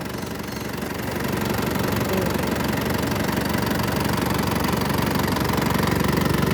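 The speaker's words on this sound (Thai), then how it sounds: "ติดเครื่องสตาร์ทเครื่อง โอเคโอ้ยสตาร์ทเครื่องนิ่มมากพี่น้อง" An Isuzu D-Max pickup truck diesel engine idles steadily close by after an engine rebuild, a continuous knocking rumble that grows slightly louder after the first second.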